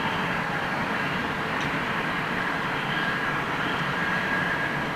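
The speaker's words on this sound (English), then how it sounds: "Dreamliner just come in" A Boeing Dreamliner airliner landing at London Heathrow Airport gives a steady, loud broadband roar of jet engines with no breaks, joined late by a faint whining tone.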